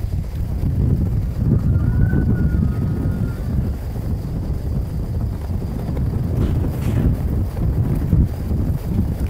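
Strong wind gusts at a view tower in Ilam, Nepal, a loud, continuous low roar buffeting the microphone with no speech.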